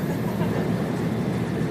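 A high-speed train in Japan running at about 330 km/h is heard from inside the carriage, a dense steady rumble and rushing roar with no breaks.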